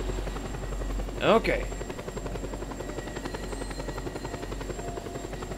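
A helicopter in the video game Just Cause 2 drones with a steady rhythmic rotor chop throughout, loud and continuous, while someone briefly speaks over it.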